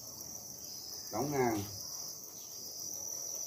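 A cricket farm carries a constant high insect trill throughout. Someone briefly speaks over it near the middle, and the chirping stays faint but steady.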